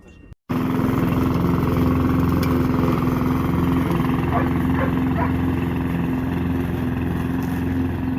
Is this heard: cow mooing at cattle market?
no